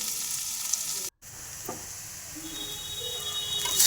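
Onion sizzling in a pan with leftover cooked rice, a steady close frying hiss with occasional stirring scrapes and a brief dropout partway, no talking.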